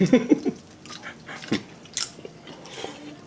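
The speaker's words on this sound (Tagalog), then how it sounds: "Huling kagat." During a Filipino mukbang meal of sinigang na bulalo, a close bite lands with a few quick crunching chews at the start, then sparse softer chewing and mouth sounds follow.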